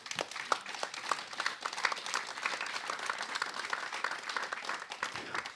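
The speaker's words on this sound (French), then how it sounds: "Et je vous demande de l'applaudir" An audience at a conference on the environment and health applauds, with many hands producing a steady, moderately distant patter for several seconds.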